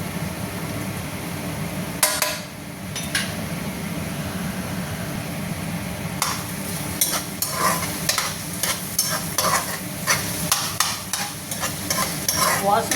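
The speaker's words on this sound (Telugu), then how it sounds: "వాసన పోయేదాకా బాగా కలుపుకోవాలండి." Pepper and garlic ginger paste frying in a pan, a steady sizzle under repeated sharp scraping and clacking stirring strokes that grow quicker and more frequent toward the end.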